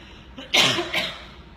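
A single close cough: a sharp, breathy burst followed by a shorter second hack, with quiet room tone around it.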